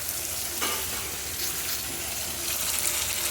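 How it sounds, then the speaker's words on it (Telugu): Eggplant and tomato curry sizzles in oil in a pan, a dense, close frying hiss with soft scraping as it is stirred, heard alone for a few seconds. "ఒకసారి కూర తిప్పుకుందాం"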